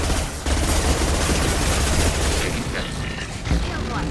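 Dense, loud gunfire and blasts play out in a Mass Effect 2 firefight, continuous throughout, with a brief spoken line over it.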